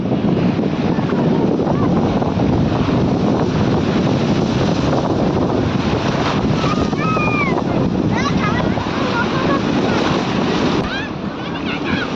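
Sea waves wash and rumble continuously at a beach during a heat wave, loud and close under strong wind buffeting, with a voice and other people talking over the surf.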